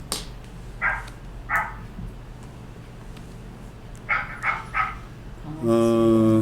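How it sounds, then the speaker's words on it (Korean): A dog barks several times in short separate bursts, fairly distant and faint, heard through a seminar room's microphone with low background hum, followed at the end by a loud electronic feedback tone. "강아지 소리도 나고요"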